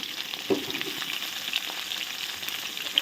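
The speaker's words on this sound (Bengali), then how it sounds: "আলুগুলোও দিয়ে দিলাম একসঙ্গে একসঙ্গে ভেজে তুলে নেব" Potatoes and cauliflower sizzle together in hot oil, a steady close frying hiss with a light clatter of stirring near the start and no voices.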